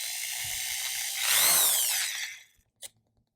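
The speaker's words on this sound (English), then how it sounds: "take your 1/8 drill bit and just drill a hole straight through the" A power drill with a 1/8 bit whirs steadily, its pitch rising as the bit bites through a rubber grommet, then stops abruptly, followed by a couple of small clicks.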